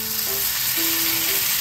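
Chicken meatballs (tsukune) sizzle steadily in a frying pan, a constant hissing fry with faint stirring, close and even throughout with no voices.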